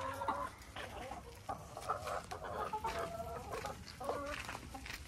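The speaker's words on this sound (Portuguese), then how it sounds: "Será que eu consigo pegar mais uma galinha pra gente ver?" Chickens clucking repeatedly nearby, a steady stream of short, throaty calls with some rustling underneath.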